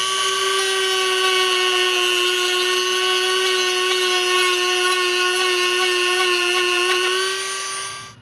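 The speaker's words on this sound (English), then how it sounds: "Now I'm just going to use a Dremel to clean up the hole a little bit." A Dremel rotary tool cleans up a drilled hole for a switch while wiring an LED light bar. It makes a loud, steady high-pitched whine that holds for about seven seconds before winding down, with no talking.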